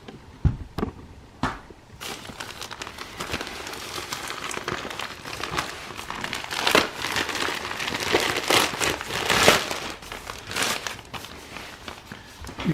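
Plastic bags from an area rug package crinkle and rustle close by in steady, irregular handling, with occasional sharper crackles and no talk.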